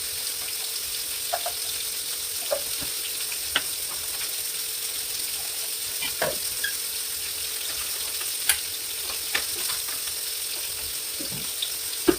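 Masala-marinated fish frying in a pan gives a steady, close sizzle with scattered sharp pops and crackles throughout, and no voices.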